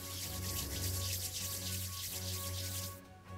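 Hands rubbed briskly together to imitate wind picking up give a steady, close, breathy hiss that holds for about three seconds, then drops away.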